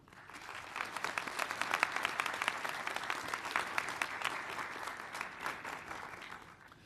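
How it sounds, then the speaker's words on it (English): A graduation ceremony audience at a college of optometry breaks into sustained, dense applause that swells in the first couple of seconds, holds strong, then fades out toward the end. "please join me in a round of applause to honor your loved ones"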